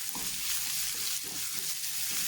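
Chicken fried rice stir-fried on high flame, a loud dense hiss of frying with rhythmic tossing and scraping in the pan, close and continuous with no voices.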